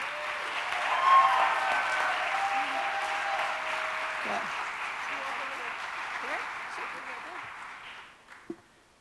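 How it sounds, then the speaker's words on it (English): A crowd at an LGBTQ awards ceremony in Dayton, Ohio, applauds loudly and steadily for several seconds, with a voice speaking over it as the clapping fades out. "Please big applause for Mary Wiseman."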